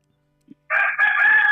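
A rooster crows once, loud and close, a single drawn-out call lasting under a second after a brief faint cluck.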